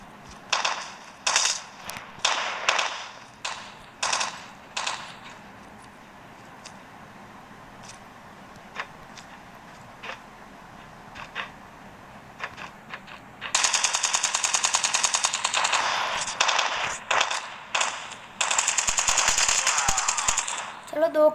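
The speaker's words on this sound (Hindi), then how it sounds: "वो अभी फायर कर रहा है, देखते हैं।" Machine gun fire in a Call of Duty battle royale match: early scattered bursts of shots, then long sustained rapid automatic fire later on, loud and close.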